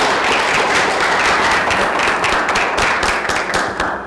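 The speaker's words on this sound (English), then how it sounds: "let's have a round of applause for Brendan Murphy." Close, loud applause from an indoor audience welcoming a speaker at a green-living talk on woodlands. The dense clapping holds steady for about four seconds.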